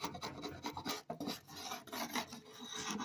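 A chisel scrapes dried glue off a wooden table top in a steady run of rasping, rubbing strokes, close and fairly quiet, with no talk.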